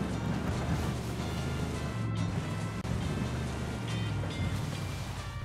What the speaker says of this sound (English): Oh, it's a river.